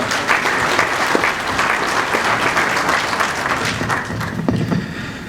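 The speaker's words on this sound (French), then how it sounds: "Puissent vos applaudissements bien vouloir les recevoir" Sustained applause fills an opening ceremony hall at the AIF 2023 event, a dense, steady wash of clapping from a large audience that stays loud throughout with little variation.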